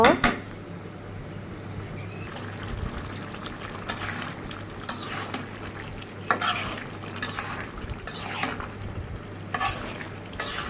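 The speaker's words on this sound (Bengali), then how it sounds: "কষিয়ে নিব মশলাগুলো যাতে ভালো করে এই সবজির সাথে মিশে যায় বারবার নেড়ে চেড়ে নিব" Spices and young pumpkin, cooked for an egg curry, are stir-fried in a pan: a steady sizzle runs underneath while a spoon scrapes and knocks against the pan in repeated, close strokes.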